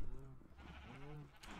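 Sheep bleating in the Minecraft video game, two drawn-out harmonic bleats back to back at moderate level over a soft game background.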